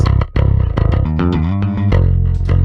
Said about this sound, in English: My DI sounds like this.